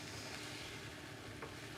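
Food sizzles steadily in a new white-interior non-stick pan as something caramelises. A dense, even frying hiss runs throughout, with a faint stirring scrape and no talk.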